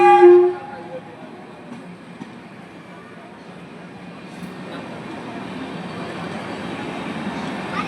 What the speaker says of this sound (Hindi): स्पेशल ट्रेन है, स्पेशल।